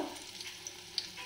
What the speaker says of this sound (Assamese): কম জুইত ভাজিব লাগিব